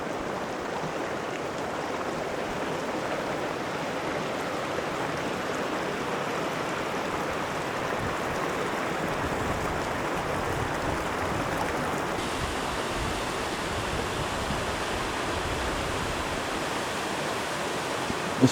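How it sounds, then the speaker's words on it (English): Waterfalls in the mountains on the back route to Mount Whitney give a constant broad rushing roar. It stays even and unbroken throughout, with no talking. "There's waterfalls everywhere you look."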